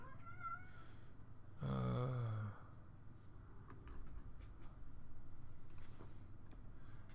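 A house cat meows once in a short, fairly loud burst indoors, then only a low background hum and faint ticking follow.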